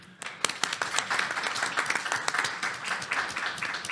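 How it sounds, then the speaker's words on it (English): Audience applause at the end of a cyber insurance conference session, a modest burst of clapping with distinct individual claps, fairly quiet and brief. "maybe a round of applause before he goes so he can hear it"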